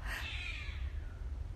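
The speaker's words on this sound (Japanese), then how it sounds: "猫がめっちゃ怒っとるかな。" A cat meows angrily close by, one drawn-out yowl that rises and then fades over a steady low hum in a quiet indoor room.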